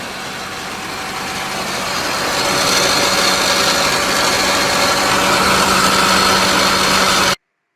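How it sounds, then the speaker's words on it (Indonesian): A noisy car engine running after the starter engages, a loud, steady, close rumble with a broad mechanical hiss that swells slightly over the first few seconds before cutting off abruptly. "Pada saat dinyalakan starter, bunyi berisik."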